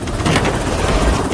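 An ambulance arrives with a loud, close, rumbling roar and a throbbing, wind-like rush that fills the whole short stretch without a break or any speech.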